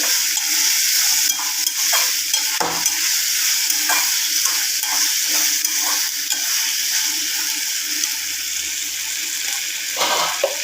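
Potatoes sizzle and crackle steadily in a hot pan, with occasional scraping stirs mixed into the continuous frying hiss.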